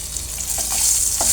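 Chili and crushed cardamom frying in oil in a pan, a steady close sizzle with bright crackling spatter throughout, alone without voices.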